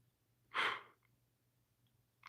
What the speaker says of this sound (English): I can't stop yawning.